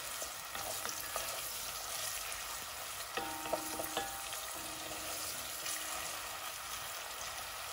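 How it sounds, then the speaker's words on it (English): Onions sizzle in hot oil in a pot, a steady close crackling hiss with occasional scraping and clinks from stirring, including a brief ringing utensil tone partway through. "as my oil starts to heat up, I'm going in with my onions"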